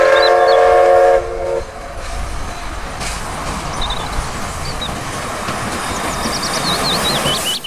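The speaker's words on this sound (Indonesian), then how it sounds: "ini kereta api Thomas" A Thomas toy train plays electronic train sounds, with a loud whistle tone at the start, then a chugging rumble and chirping electronic toots, close up.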